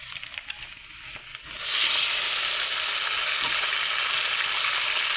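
Pieces marinated in salt, turmeric and oil drop into hot oil where onions have already browned, and a loud, steady sizzle bursts up after a quiet start, then holds evenly to the end.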